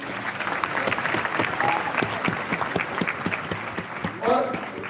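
Audience applause at a live Amulya company talk, a dense burst of clapping from a crowd of listeners that swells steadily throughout, with a speaker's voice carrying over it.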